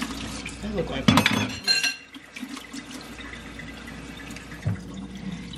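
Tap water briefly runs over a spoon in a kitchen, a short splashing burst with a clink of metal, followed by quieter kitchen sounds while a person speaks.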